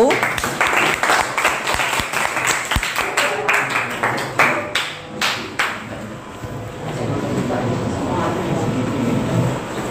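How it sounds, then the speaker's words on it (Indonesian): A classroom group claps for the first group to present, giving a burst of dense hand clapping that tapers off within a few seconds and leaves a broad room hum. "Kita beri aplaus untuk kelompok 1."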